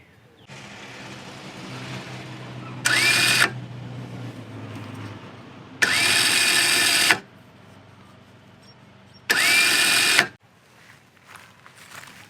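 A Warn Axon 55-S winch motor runs in three separate bursts of about one to one and a half seconds each, a loud steady electric whine that starts and stops abruptly, with low background hum between the runs.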